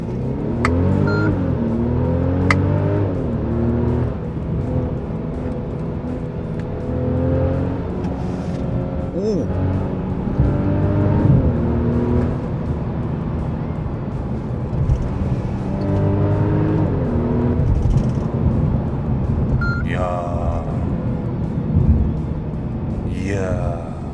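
A Mercedes E350 4Matic AMG Line accelerates hard in Sport Plus with manually selected gears. The engine note climbs repeatedly through gear shifts and is heard from inside the car, with occasional speech over the engine.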